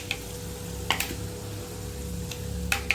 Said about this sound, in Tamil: வெந்தயம் பொரியுது